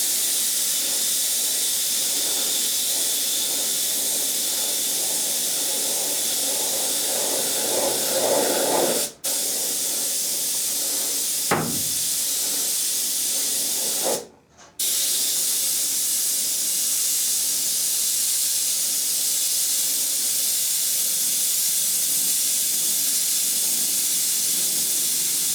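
A steady airbrush hiss runs nearly continuously, broken by a few brief gaps, close and fairly loud with no voices.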